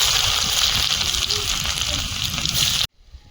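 Chopped garlic and ginger hit hot oil for chili chicken, giving a loud, steady frying hiss that runs continuously and then cuts off abruptly near the end.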